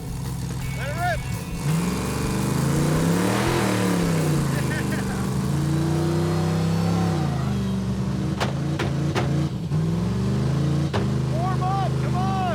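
A race truck built for off-road track racing revs its engine hard in repeated rising and falling surges, loud and close, with voices faintly underneath.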